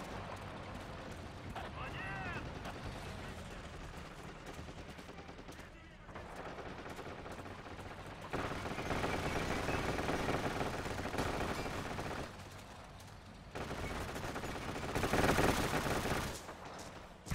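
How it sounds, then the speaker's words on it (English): Rapid, sustained gunfire from the Forgotten Hope 2 multiplayer war game runs throughout with bursts of automatic fire. It swells louder in stretches, and voices talk over it. "Everybody firing at the G20."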